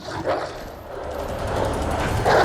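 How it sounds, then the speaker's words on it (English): Doberman dogs barking in the Resident Evil 2 remake, a few sharp, fairly near barks and yips over a constant game background hum. "Freaking Doberman."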